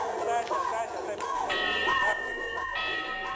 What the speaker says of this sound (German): Das hört sich an wie eine Glocke. Kirchenglocken.